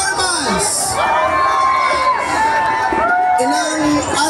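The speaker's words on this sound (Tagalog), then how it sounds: "isang masigabong palakpakan na may kasamang hiyawan para sa team performance" Crowd cheering and whooping at a Mandaluyong City election campaign rally before the team performance, a loud, steady roar of shouts and voices with scattered clapping filling the whole stretch.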